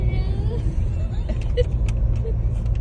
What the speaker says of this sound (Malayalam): വണ്ടി മുന്നോട്ട് ഓടിക്കൊണ്ടിരിക്കുകയാണ്